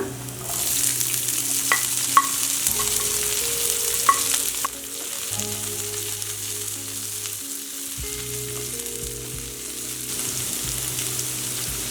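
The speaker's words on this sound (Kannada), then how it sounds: "ಸ್ವಲ್ಪ ಮೆಣಸಿನ್ಕಾಯಿ ಫ್ರೈ ಆಗಲಿ ಎರಡು ಮೀಡಿಯಂ ಸೈಜ್ ಈರುಳ್ಳಿ ಉದ್ದುದಾಗಿ ಹೆಚ್ಕೊಂಡಿರೋದು ಈರುಳ್ಳಿ ಹಾಕೊಳ್ಳೋಣ" Green chillies and long-sliced medium onions frying in oil in a pan for a quick curry, a steady close sizzle with a few stirring clicks and a faint background hum.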